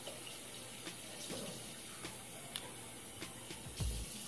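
Water runs from a sink faucet during face rinsing, a quiet continuous splashing hiss with occasional soft splashes and clicks.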